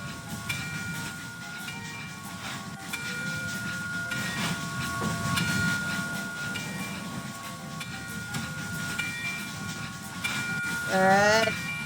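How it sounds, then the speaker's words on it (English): A video game train rumbles along steadily with rhythmic rail clatter and hiss, tonal whistles and squeals rising near the end. "Again, the train is working now."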